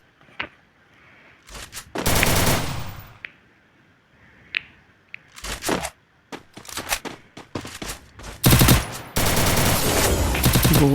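Rapid gunfire in the mobile shooter Free Fire, with bursts of automatic fire and single shots scattered across the match, loud and close, with silences between the volleys.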